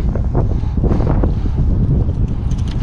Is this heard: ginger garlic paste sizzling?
no